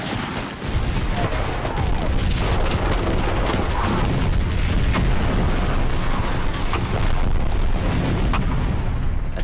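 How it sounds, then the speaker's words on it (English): Civil War battle crossfire at close range, with dense rifle volleys and booming cannon fire layered into a continuous, loud roar of sharp cracks and heavy blasts lasting throughout. "When the Yankees get within 40 yards, the Confederates unleash a murderous crossfire."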